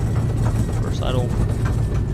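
An airliner's engines idle in a flight simulator, a loud steady low drone under a speaking voice.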